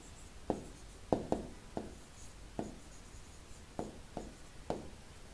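Pen or pencil writing a math assignment by hand on paper, a quiet close series of short scratchy strokes and taps in an uneven rhythm, with no voices.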